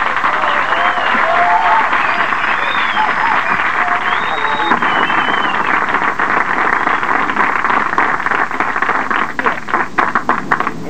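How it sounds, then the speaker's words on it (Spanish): Sustained applause from a large comedy show audience fills the room, dense and steady, with a few scattered shouts rising above the clapping. "¡Fuerte el aplauso!"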